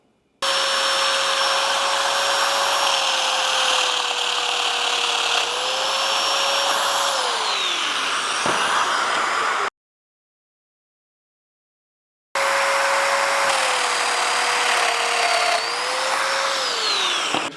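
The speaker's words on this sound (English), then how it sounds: "make sure we have a 6 millimeter bit on the Domino" A Domino joiner with a 6 mm bit whirs loudly as it plunge-cuts mortises in wood, two sustained motor runs separated by a silent pause, each winding down at its end.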